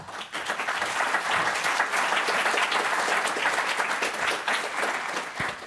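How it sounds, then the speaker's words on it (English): Audience applauding at the end of a talk about writing good error messages, a dense sustained roar of many hands clapping, even and moderately loud, with no voices over it. "thank you for the applause"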